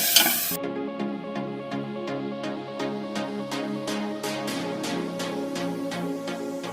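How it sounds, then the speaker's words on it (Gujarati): A spoon stirs potatoes through spiced liquid in a pan, scraping and clinking in a steady rhythm of regular strokes over a continuous sizzle. The sound is close, moderately loud and alone. "બટેકા હલાવી દઈશું."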